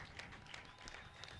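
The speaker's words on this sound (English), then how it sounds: "a huge round of applause here from his teammate, from the crowd" Applause from the crowd and a teammate at a UAE vs Hong Kong men's cricket match, faint and distant, a steady wash of clapping with no talk over it.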